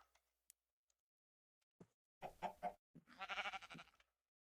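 A chicken clucking in the Minecraft modpack All The Mods, with short bursts of clucks and squawks against near silence, plus a few faint ticks and clicks before them.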